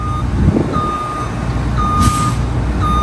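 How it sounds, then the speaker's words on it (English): A ballast truck pulls up at a crane lifting site, its reversing alarm sounding loud, evenly spaced beeps over the low rumble of the engine, with a short hiss of air brakes midway. "And at this end, the ballast truck's just turned up."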